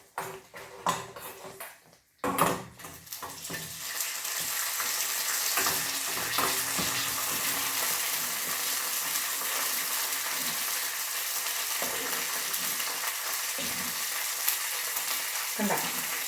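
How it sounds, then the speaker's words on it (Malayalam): Mustard seeds fry in hot oil in a pan with a dense, steady sizzle and scattered pops and crackles. The sound is close and fairly loud, following a few brief clatters at the start, with no talking. "അപ്പോൾ നമുക്ക് കടുകും കൂടെ വറുത്ത് ഇട്ടേക്കാം അല്ലേ"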